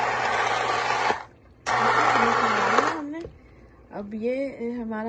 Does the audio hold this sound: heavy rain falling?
no